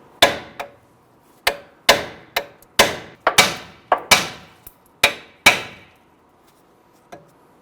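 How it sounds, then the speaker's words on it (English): A hammer taps a tie rod ball joint out of the steering knuckle of a 2008-2013 Infiniti G37 during front outer tie rod replacement. Eleven or so sharp metallic strikes ring out close by in an irregular rhythm, each decaying quickly into quiet. "we're going to go ahead and gently tap this here to pop the ball joint out of the knuckle."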